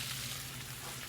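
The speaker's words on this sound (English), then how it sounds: "I'm just going to butter the bread up, put it in a hot pan." Buttered bread toasting and potatoes frying for a steak and potato hash in a hot pan, a faint, steady hiss of sizzling fat with no voices.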